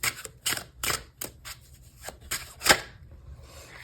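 Tarot cards shuffled and flicked during a love reading, a run of crisp, close papery riffles and snaps in quick bursts, one sharper slap near the end, no talking.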